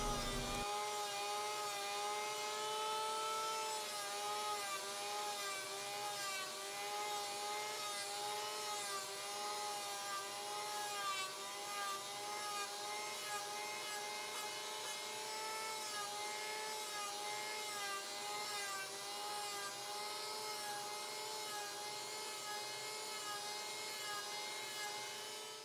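A multi-tool steadily grinds and cuts into a spruce cone being shaped into a fishing lure, a continuous buzzing whine with slight wavering as the blade works the wood, running unbroken and alone throughout.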